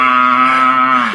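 A person gives one long, steady low moo, imitating a cow, the voice dropping slightly at the end.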